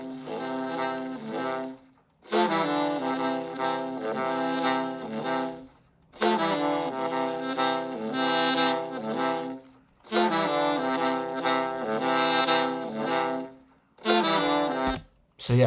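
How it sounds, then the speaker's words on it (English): Alto, tenor and baritone saxophones play together in sustained harmony, alto and baritone in octaves under a tenor melody, four phrases separated by short pauses, full and close with no talking. "So the alto and the Barry are in octaves, and then the tenor's doing a melody."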